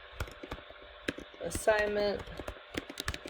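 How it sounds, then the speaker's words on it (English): Keys clatter on a computer keyboard in quick, uneven bursts while someone writes a blog post, close and moderately loud under a person's speaking voice. "So I can start typing"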